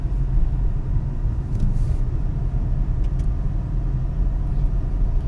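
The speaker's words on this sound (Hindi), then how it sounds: "मुझे आपको अभी एक्सेलेरेटर दबाना है, रास्ता खाली है" A Renault Kiger AMT accelerating on an open road, heard from inside as a steady low engine and road rumble that holds even throughout, with no talking.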